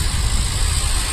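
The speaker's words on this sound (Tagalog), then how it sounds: "Daming sasakyan." Busy traffic of many cars around Baclaran, a continuous loud engine rumble and idling drone close by, steady throughout with no distinct passes and no talking.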